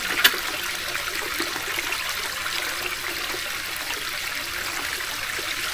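Water flowing through a homemade DIY pond filter filled with bio balls, a steady close trickling and splashing stream running continuously without pause.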